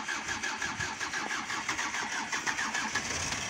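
A diesel car engine turns over and fires at minus seventeen degrees, then runs as a steady, rough, clattering idle at moderate distance for several seconds.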